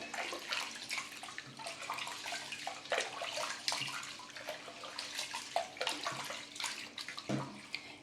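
Water splashes and pours steadily into a vessel of rice being washed, with sloshing and trickling, close by, continuous with no talking.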